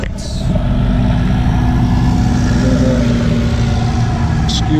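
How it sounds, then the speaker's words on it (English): A street sweeper runs nearby, putting out a steady, loud, low mechanical drone with a constant engine rumble and brushing noise. "Excuse the noise of the street sweeper."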